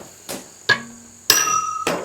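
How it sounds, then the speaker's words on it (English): A hammer strikes a steel file clamped tightly in a vise to snap it off: four sharp metallic blows spaced apart, the last ones ringing with a bright lingering tone, no voices. "Lock that thing in a vise really well, and then hit it with a hammer."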